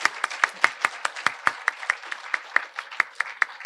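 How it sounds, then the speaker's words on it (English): Brief, sparse clapping from a small audience at a city State of the City event: a few sharp, fairly close hand claps in an uneven rhythm, lasting only a few seconds. "Can we give them a round of applause"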